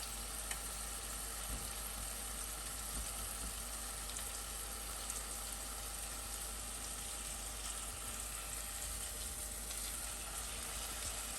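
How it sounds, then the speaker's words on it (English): A filet mignon sears in butter with garlic and thyme in a pan, making a soft, even, continuous sizzle that stays quiet and steady throughout without a pause. "I'm trying not to turn it so the sear continues"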